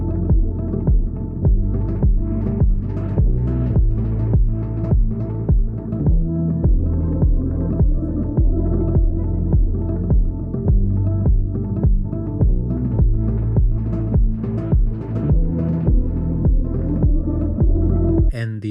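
A guitar sample run through an LFO that swells and fades, forming a steady pulsing, throbbing texture with repeated rhythmic strikes and a dense low hum, continuous and loud for the whole stretch with no talk.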